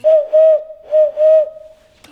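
A voice imitates a cuckoo, giving two paired hooting calls, each two notes, clear and close with a brief pause between the pairs.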